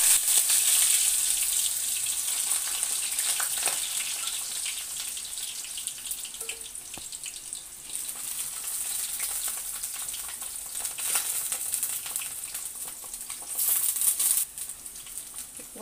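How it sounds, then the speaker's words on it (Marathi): Brinjal pieces, cut and soaked in water, frying in hot oil in a pan, giving a steady broadband sizzle with faint clatter, close and continuous with no talking. "तर आता हे तेलामध्ये आपण ना थोडंसं असं परतून घ्यायचं आहे"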